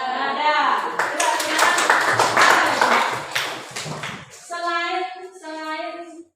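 A class of students claps for a classmate in a school lesson, a short burst of quick, close hand claps over voices, followed by a few seconds of children chanting or speaking in unison.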